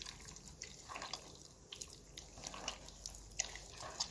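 Water drips and trickles faintly while sausage dough is rinsed to wash out its starch, soft irregular splashes and patters close by in a quiet kitchen.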